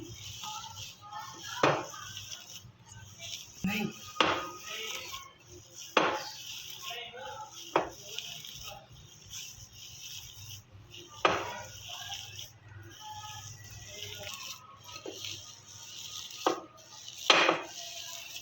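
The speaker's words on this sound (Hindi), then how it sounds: "अब हम लोग इसको मिक्स करेंगे।" Shami kabab mixture with garam masala and coriander being mixed in a bowl, heard as intermittent close clinks and knocks of a utensil against the bowl spread over a quiet kitchen background.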